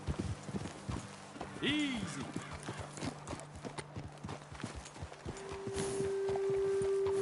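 Horses' hooves clip-clop at a slow walk in the video game Red Dead Redemption 2, with a brief whinny and a voice speaking over the steady rhythmic hoofbeats, and a low sustained tone rising near the end.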